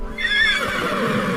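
A horse neighs close and loud, a single bright whinny that rises, wavers and trails off over about a second, with no talk around it.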